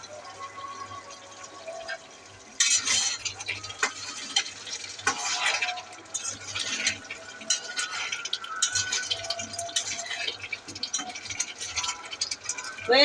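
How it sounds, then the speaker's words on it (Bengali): Egg white curry with a little ghee is stirred in a hot pan, a continuous close scraping and clattering of the spoon over a soft sizzle that grows louder after the first few seconds. "এখন নাড়বো।"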